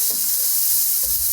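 Onions frying in a pan, sizzling loudly and continuously up close while being stirred, with a couple of brief scraping touches.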